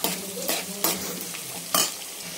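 Garlic, mustard seeds and onions crackle and sizzle in a hot pan, broken by three loud stirring scrapes of a spoon against the metal, close up with no voices.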